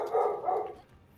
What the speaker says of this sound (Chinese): 你家的狗，我听到